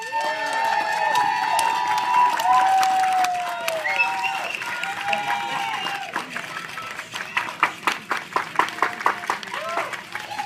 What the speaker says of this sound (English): looks like we've got a pretty rowdy crowd out here